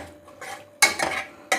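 A spoon scrapes and clinks against a pot while turmeric is mixed into arbi gosht, several quick close metallic strokes over a couple of seconds.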